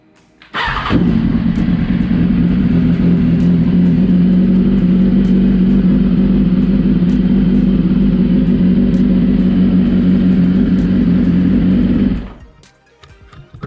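A 2016 BMW S1000RR sport bike engine fires up with a sharp start, then holds a loud, steady idle close by for about eleven seconds before cutting off, with no talk over it.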